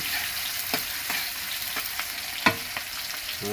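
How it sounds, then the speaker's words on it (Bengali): Onion browning in a pan as the base for a shing fish curry with potato and tomato, a continuous close sizzle punctuated by repeated spatula scrapes and a clink near the end, no speech. "আমরা এখন পেঁয়াজ দিয়ে পেঁয়াজটা একটু আমরা লাল করে নেব"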